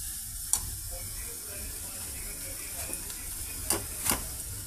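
Onions frying in a pan with turmeric and salt for a drumstick curry give a steady sizzle, while a spoon stirs and scrapes a few times close up.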